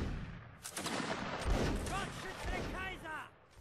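Musket volleys ring out in a Mount & Blade: Napoleonic Wars battle, a dense run of overlapping shots with players shouting and talking over the top.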